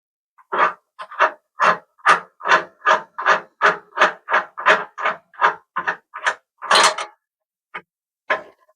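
A 13mm socket on a long extension loosens a nut on a Miele washing machine, giving about eighteen close, evenly spaced scraping clicks in a steady rhythm that slows and trails off near the end, with no talking.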